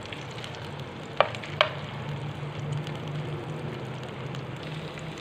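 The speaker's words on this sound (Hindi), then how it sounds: "अब इसमें अदरक और लहसुन का पेस्ट शामिल कर दें। इसे 2 मिनट के लिए" Ginger garlic paste fries in a pan with a soft, steady sizzle, interrupted by two sharp stirring clicks.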